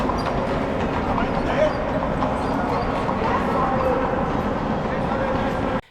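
Horse-drawn carriage hooves clip-clopping at a palace in Vienna. Steady rhythmic hoofbeats and wheel rumble run continuously under a busy ambient wash of street noise and background chatter.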